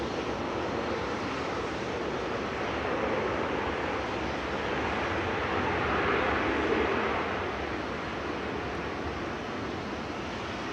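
A KLM Boeing 737-800 roars steadily at Manchester Airport, a broad, continuous jet rumble that swells slightly near the middle, heard from a distance without talk.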